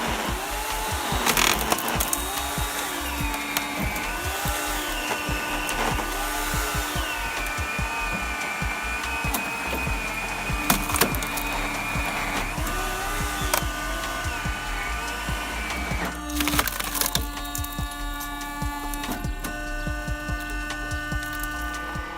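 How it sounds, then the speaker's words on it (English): Screw log splitter driving a wooden log onto a rotating screw to split it into firewood, a continuous grinding motor drone with repeated creaking, cracking wood and whining pitch shifts, fairly close. "Pushing the log into the screw to separate it into firewood"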